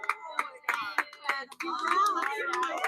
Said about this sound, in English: 2 hours, round of applause.